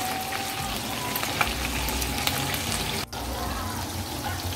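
Meatballs sizzle in a pan as they cook on their second side, a steady, fairly loud crackling hiss with scattered pops that briefly cuts out near the end.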